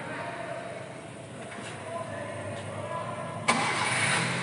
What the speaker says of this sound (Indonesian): Kemudian mesin dihidupkan. Nah, hidupnya di RPM 2000 ya.